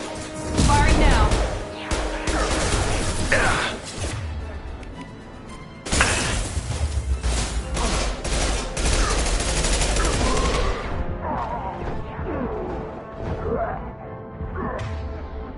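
Mass Effect gunfire, sustained bursts of rapid shots with crashes and impacts, loud and close, continuing in long volleys with brief gaps, with voices talking over the combat.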